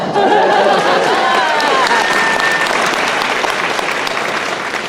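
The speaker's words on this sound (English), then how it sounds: "Get a round of applause." Loud convention-hall applause from a large fan audience at a Supernatural event in Vancouver, sustained and dense, with cheers and whoops rising over the clapping early on before it gradually thins.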